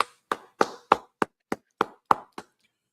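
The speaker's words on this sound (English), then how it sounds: "All right, clap it up." People clap in unison to open a class: nine sharp, evenly spaced claps about a third of a second apart, close and crisp with nothing else heard, the final clap slightly softer.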